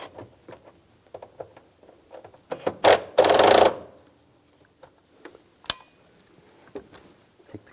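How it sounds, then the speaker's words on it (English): A worm clamp is tightened on a coolant hose during a coolant crossover pipe replacement on a 2011-2018 Ram 1500, with faint clicks and handling taps around one loud, short buzzing burst from the driver. "Now tighten this worm clamp down."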